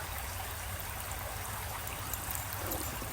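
Water pours onto small lithops succulents during watering, a continuous close splashing trickle that holds steady for the whole stretch with no talking.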